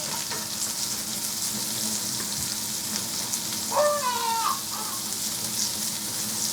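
Carrots frying in a pan of hot garlic oil give a steady, close sizzle throughout, with a brief chirping bird-like squeal rising over it midway.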